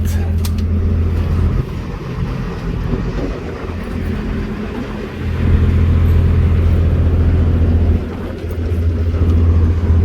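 A car drives along with a steady, loud low engine and road rumble on the way to a ferry near a marina in Port-Louis and Lorient. The drone swells and dips slightly and stays continuous throughout, with no clear voices over it.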